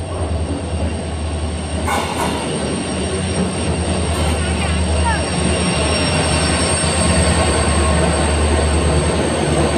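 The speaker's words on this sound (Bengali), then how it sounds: "বন্ধুরা ট্রেন ঢুকে গেল, এই যে ট্রেনে উঠবো এখন" A train pulls into a station with a loud, continuous rumble and rolling clatter of wheels on track, a sharp wheel squeal and a bright burst early on, heard close up with no talk.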